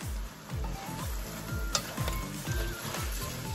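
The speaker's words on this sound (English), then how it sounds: "Just give it a quick mix." Fried salt and pepper shrimp tossed quickly in a hot pan, a steady sizzle under regular rhythmic scraping strokes of a utensil against the metal, close up, with an occasional light clink.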